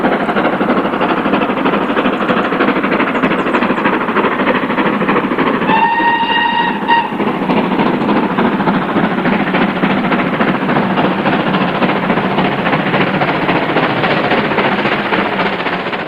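Steam locomotive Pitchford Hall working hard on a main line loaded test run between Snow Hill and Stratford, a loud, sustained roar of exhaust and rolling wheels with a short whistle blast partway through.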